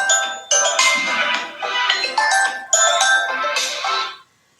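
Mobile phone ringtone plays loud and close, a bright electronic melody repeating in phrases for about four seconds before cutting off, with no voices over it.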